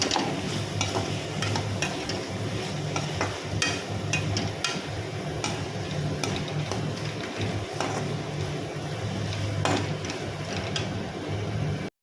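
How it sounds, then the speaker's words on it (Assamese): Onions are frying in spiced oil, with a steady, close sizzle throughout and repeated scraping and clinking of a utensil stirring them in the pan, and no talking. "এতিয়া মই এইখিনি পিঁয়াজ এড কৰি দিলোঁ"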